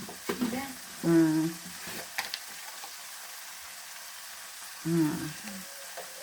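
Ground cumin and coriander sizzle in a frying pan with a soft, steady crackle, punctuated by a couple of short hummed vocal sounds nearby.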